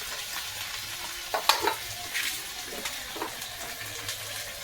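Potatoes fry in a pan with a steady close sizzle, broken by a few scraping and clinking strokes as they are stirred; nobody speaks.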